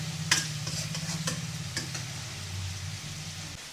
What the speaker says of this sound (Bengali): এই যে মুরগির মাংসটা আগে থেকে মেখে রাখছিল জোবা, এখন ভেজে নিচ্ছে।